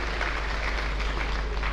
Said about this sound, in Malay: Jadi satu tepukan yang gemuruh kepada isteri tercinta